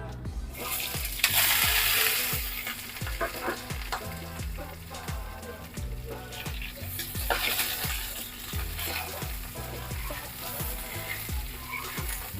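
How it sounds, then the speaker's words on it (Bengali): Loti (taro stolons) and green chillies drop into hot oil seasoned with black cumin, bursting into a loud crackling sizzle that settles into a continuous bubbling fry with scraping stirs, alongside a low rhythmic background beat. "এবার আমি লতি এবং কাঁচা লঙ্কা দিয়ে দিব তেলের মধ্যে"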